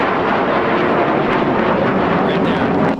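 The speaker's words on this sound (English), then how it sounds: "There's the plane right there. It's landing." An airplane landing in Alaska gives a loud, continuous broadband jet roar that holds steady throughout, with wind buffeting the microphone and no words spoken.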